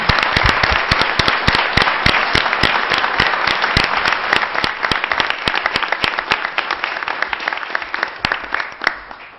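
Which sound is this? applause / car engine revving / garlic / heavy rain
applause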